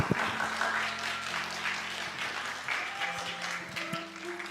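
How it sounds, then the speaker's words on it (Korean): A church congregation claps in welcome at a youth worship gathering, a steady patter of applause from many hands over a sustained instrumental tone, with a voice speaking briefly over it. "박수로 환영하겠습니다"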